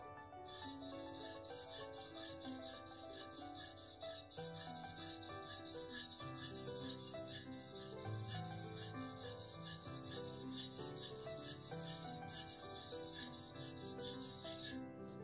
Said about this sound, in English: we're gonna do some spot honing on that toe real quick.